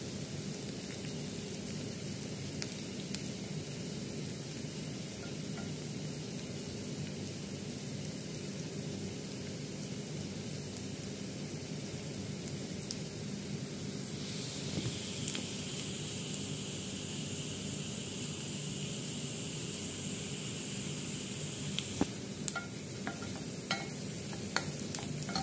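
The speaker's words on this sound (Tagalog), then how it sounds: "Yung piniprito-prito muna siya." Carrots frying in a pan while making pansit canton with shrimp, giving a steady close sizzle with soft stirring scrapes throughout, no voices.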